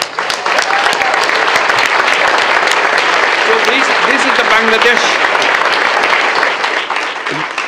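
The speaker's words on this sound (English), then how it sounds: "Let's give them a big applause" Audience applause fills a hall, sustained and loud throughout while someone speaks over it at a public address.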